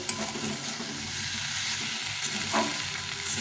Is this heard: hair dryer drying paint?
no